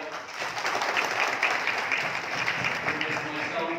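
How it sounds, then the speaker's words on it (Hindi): An audience applauds after a talk by a police officer about drug addiction, continuous dense clapping holding steady at moderate volume for several seconds. "तालियों से अप्रिशिएट किया"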